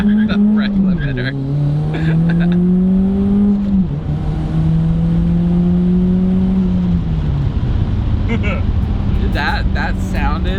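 A turbocharged daily-driver car on a dyno holds a loud, droning engine note close by, its pitch climbing in long steady sweeps and dipping briefly between them, with faint voices underneath.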